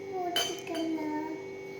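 A spoon stirring rose milk in a glass, giving a couple of bright clinks close by, with soft children's talk and a faint tonal hum underneath.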